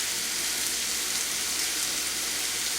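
Chopped onions for sofrito sizzling steadily in a hot pan, a constant close hiss of frying with no voices over it.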